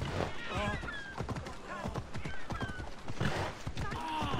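Horse hooves clip-clopping in Assassin's Creed Odyssey, a steady rhythmic trot near and moderately loud beneath game music and a voice speaking over it.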